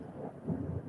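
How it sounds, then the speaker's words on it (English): A clap of thunder rumbles, a brief low dull roll heard faintly in the distance with no talk over it. "got a clap of thunder there."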